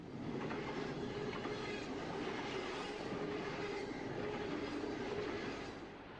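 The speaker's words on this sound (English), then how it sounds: "Based on the intermodal traffic headed west on BN train number 13" A BN intermodal freight train rolls west through the Cascades near Stevens Pass, a steady rumbling roar with faint rhythmic clatter of wheels and a thin squeal, constant and moderately distant.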